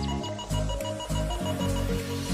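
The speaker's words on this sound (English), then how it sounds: "The ionic unit emits sound signals upon successful wireless connection." A metal detector gives a steady series of electronic beeps in a repeating pulsing pattern, clear and close, with no talking.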